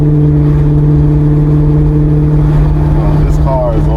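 A loud car engine holds a steady, deep droning hum throughout, with a voice breaking in briefly near the end.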